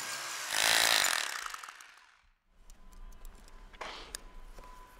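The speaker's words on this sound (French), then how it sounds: "On perce alors les trous pour les ancres de la coulisse" A power drill bores holes for cavity wall anchors, a loud whining burst up close that winds down, followed by quieter clicks and rattling handling sounds.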